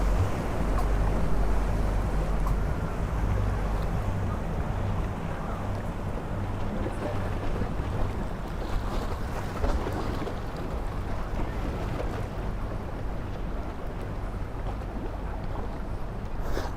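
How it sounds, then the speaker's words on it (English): A boat moves on the water off Miami at night, with a steady low engine rumble and wash of water mixed with wind noise, continuous and fairly near throughout. "Check out this guy on his boat."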